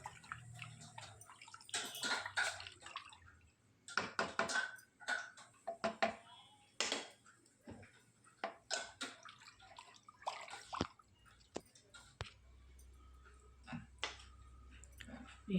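Water poured into a pressure cooker for prawn biryani in a home kitchen, heard as irregular splashing and dripping bursts with clinking, fairly close and moderately loud, with no talk.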